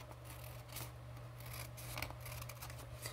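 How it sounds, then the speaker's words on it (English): Scissors snipping around the border of a fabric pattern piece, a series of soft crisp cuts with a faint low hum beneath, quiet and close. "what you want to do is cut the border"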